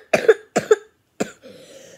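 A person sick with a bad cough coughs three times in quick succession: two double-pulsed hacks followed by a single shorter one, then a breathy exhale, close and fairly loud with no talking.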